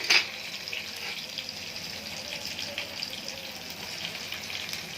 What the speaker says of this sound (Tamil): வெங்காயம், தக்காளி, கருவேப்பிலையில, பச்சை மிளகாய், இஞ்சி பூண்டு, ஆயில் ஊற்றி தாளிச்சிடணும்